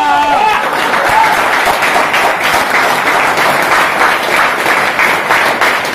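An audience claps in a hall during a business plan presentation, loud, dense applause held steady for several seconds and briefly overlapping a speaking voice at the start.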